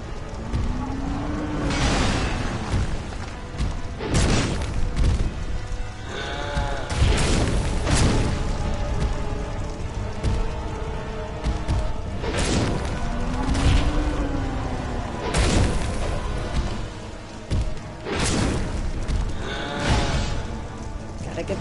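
Fire attacks in Dark Souls II: repeated heavy booming bursts and roaring whooshes, loud and dense, layered over a continuous rumbling game soundtrack throughout.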